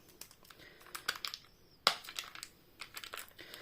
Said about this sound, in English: I might need some scissors to cut the plastic